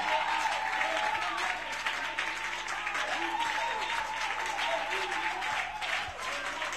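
A church congregation applauding and acclaiming in a sustained, even wash of clapping and crowd voices, heard from within the room at moderate level.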